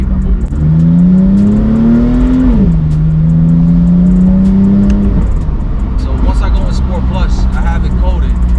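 A BMW M4 with a titanium exhaust, tuned for burbles, revs up in a rising tone, drops, and holds a steady high pitch before settling back. Someone talks over it near the end.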